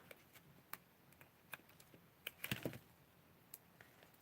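Paper cardstock strips being cut, heard as a run of sharp, close clicks and snips spaced irregularly, with a denser cluster of cuts midway.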